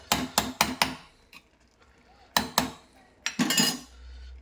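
A metal spoon spreading a layer of rice over country chicken dum biryani in a pot, with a series of sharp close scrapes and clinks in short bursts separated by quiet gaps.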